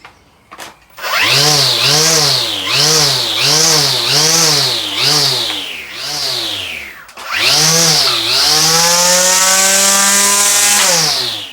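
A Bosch trimmer cutting wood, close and loud, with its motor rising and falling in about six repeated pulses before a longer sustained high whine.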